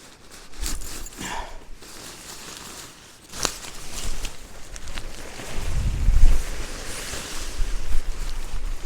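Gusty wind blowing outdoors while a tarp is set up at a wild camp in the rain, a continuous rushing roar with buffeting microphone rumble that swells stronger toward the end, no voices.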